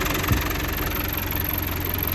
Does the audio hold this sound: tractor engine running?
yes